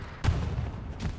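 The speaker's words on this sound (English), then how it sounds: "I think I just blew up a vehicle with my mine." In a video game, a mine blows up a tank: a deep boom erupts, followed by a second, weaker blast about a second later.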